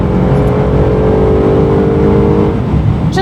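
A Bentley Continental GT's engine pulls under acceleration, a steady loud droning hum with rising harmonic tones held close throughout, no voices.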